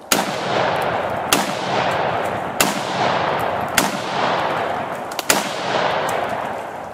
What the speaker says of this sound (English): while we were shooting a friend of mine's Scar Heavy